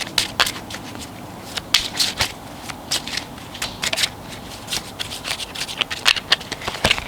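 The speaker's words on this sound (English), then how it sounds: "I will give it a shuffle" Rapid riffling and flicking of tarot cards, repeated in quick bursts for several seconds, close and crisp with no talking.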